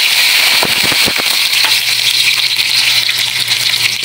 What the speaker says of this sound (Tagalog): Sangkutsa lang natin hanggang sa brown ng kaunti yung ating ricado, sibuyas, bawang.